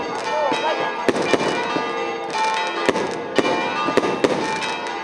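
A fireworks display bursting over Shkodër cathedral during the feast of Our Lady of Shkodër, with sharp loud bangs at irregular intervals over a dense, continuous wash of crackle and ringing church bells, close and loud.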